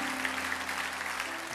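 Church congregation at a Sunday service in Irvine applauding to bless an elder as she stands, a brief, steady wash of clapping from many hands.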